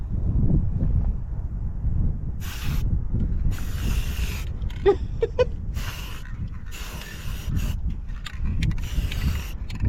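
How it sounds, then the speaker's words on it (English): Wind gusting across a microphone outdoors at a canyon campsite in Palo Duro Canyon State Park, Texas, a steady low rumble and hiss throughout with brief rattling and hissing bursts over it. "The wind's blowing."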